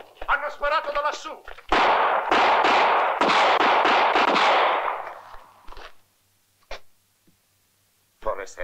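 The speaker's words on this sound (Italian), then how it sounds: "Sparato da lassù!" A gunshot fired from above in a western film: a sharp crack and loud rolling echo that fades over several seconds, following a voice, with a few faint later knocks.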